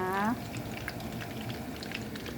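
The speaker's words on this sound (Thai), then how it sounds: "กำลังถึงขั้นตอนทอด ทอดสีเหลืองๆทองทองนี่นะคะ" Fish sticks deep-frying in hot oil until golden make a continuous bubbling crackle up close, with a brief vocal sound at the very start before the frying carries on alone.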